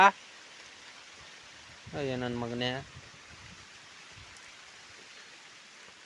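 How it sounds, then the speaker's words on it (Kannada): Soft, steady rain patters in the background, faint and continuous, while a man briefly calls out in the middle. "ಓಕೆ ಮಳೆ ಶುರುವಾಯಿತು"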